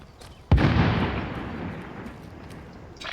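A single loud explosion bursts out in the Call of Duty Warzone battle royale, a sharp boom that rolls off into a long fading rumble, with another faint blast starting at the very end.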